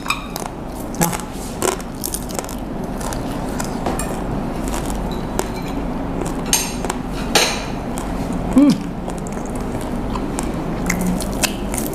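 Crunchy food, including fried chicken skin and bony meat, is bitten and chewed at a Japanese restaurant. Repeated close crunches and chews come through over a steady din of restaurant chatter and clinking dishes.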